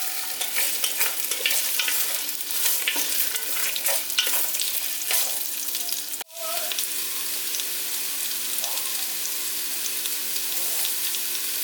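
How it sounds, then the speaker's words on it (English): Food sizzles steadily in a heated, oiled Dutch oven, a dense, loud frying hiss that runs throughout, with a brief sharp clatter partway through. "In my heated and oiled Dutch oven, I'm just going to heat these up"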